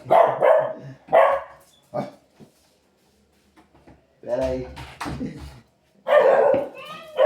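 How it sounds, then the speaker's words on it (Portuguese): A dog barks in short bursts indoors, loud and close, a few sharp barks mixed with someone speaking Portuguese between them. "o cachorro começou a latir aqui"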